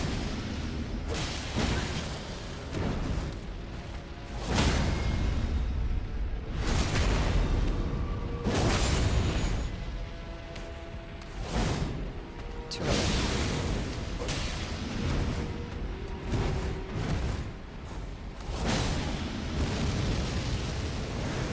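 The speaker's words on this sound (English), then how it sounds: "I don't want to be in the center of the explosion" Repeated loud booming bursts and whooshing blasts from an explosion attack in the Elden Ring DLC video game, several heavy detonations in irregular succession over sustained rumbling.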